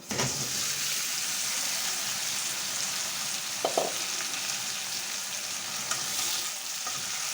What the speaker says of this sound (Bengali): হালকা লাল করে ভেজে নিছি বেশি লাল করব না লবণ হলুদ মাখানো মাছগুলো দিয়ে দেবো